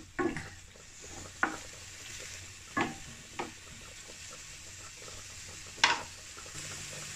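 Chicken fries in a pan with a soft, steady sizzle while a utensil stirs it, giving several sharp scraping knocks against the pan spaced a second or two apart; quiet and close, with no talking.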